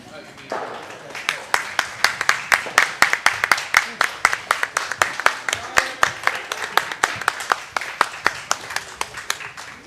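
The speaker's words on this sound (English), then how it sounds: "An applause for both teams from Sheet C" Steady applause from a crowd at a curling event, dense rhythmic clapping with sharp individual claps standing out, fairly close and sustained throughout.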